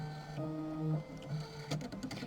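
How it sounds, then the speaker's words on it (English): A computerized embroidery machine stitches a placement line for a quilt block in bright pink thread, a steady mechanical hum with tonal whine that shifts pitch, ending in a rapid run of ticking needle strokes, close and fairly quiet. "And then it's going to do my placement line for that."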